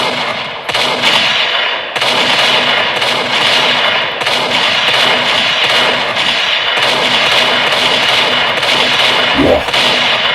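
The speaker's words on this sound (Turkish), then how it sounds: "Silah sesleri nereden geliyor Montales?" Dense, rapid gunfire crackles nonstop, sharp overlapping bursts like automatic weapons, loud and close throughout.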